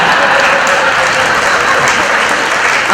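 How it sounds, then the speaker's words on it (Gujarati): Live comedy show audience in Mehsana clapping, a loud, dense, continuous burst of applause from a large crowd filling the whole moment. "એટલે તાળી પડવા મોડા ન પડતા મારો બાપૈયો"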